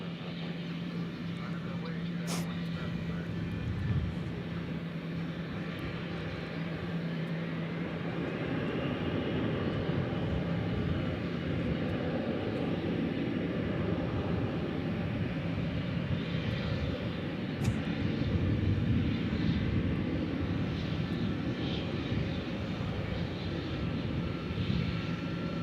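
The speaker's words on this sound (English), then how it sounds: "Got a couple of Envoy aircraft to get out." Envoy aircraft engines at DFW airport produce a steady low roar that runs throughout at moderate distance, with a few faint clicks on top and people talking quietly underneath.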